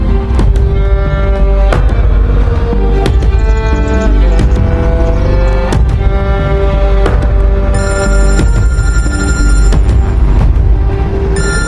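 Telephone ringing in a Hindi film scene, a loud electronic ring repeating in regular bursts with a tonal ringtone layered over it, no talk.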